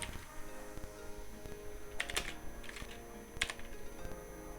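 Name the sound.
typing text on a computer keyboard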